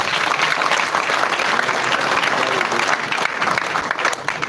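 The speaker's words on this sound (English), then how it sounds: "put up to give a thunderous hand clap to our parliamentary team" A large crowd at a political rally breaks into loud, sustained applause, a dense close wash of clapping that barely eases over several seconds, with faint voices mixed in.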